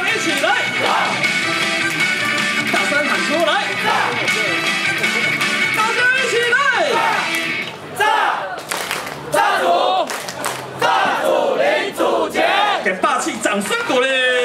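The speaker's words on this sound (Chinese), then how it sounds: "大声喊出来！大声一起！" Crowd at a professional baseball all-star game in a stadium yelling loud, rousing cheers in unison, breaking off briefly before surging again, with an amplified voice leading the chant.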